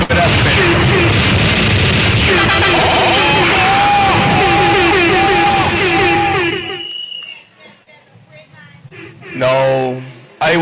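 Loud crowd applause and cheering at an outdoor political party public meeting in Independence Square, a dense roar lasting several seconds with voices mixed in, then cutting off to quieter speech.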